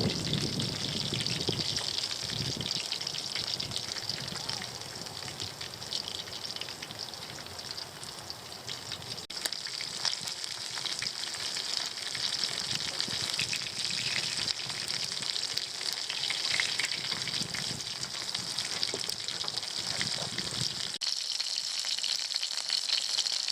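Lobster and mackerel in batter frying in hot oil on a boat, a steady close sizzle with faint stirring scrapes, continuous throughout.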